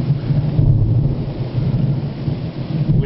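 Loud, continuous rolling thunder during a summer storm in Finchingfield, Essex, with steady rain underneath, a heavy rumble that swells and eases without a break.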